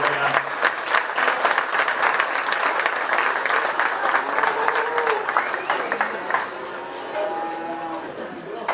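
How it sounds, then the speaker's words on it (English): Audience at a 4-H bottle calf show at a county fair gives a sustained round of clapping, with a calf lowing near the end as the applause fades. "give them one more round of applause"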